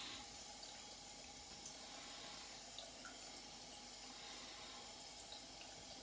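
Tap water runs steadily into a bowl of shaving lather, a continuous even splashing rush that holds at the same level throughout with no voices.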